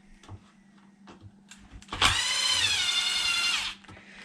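A power screwdriver backs two shock screws out of a Traxxas XRT RC truck, one steady whining run of about a second and a half after faint handling clicks.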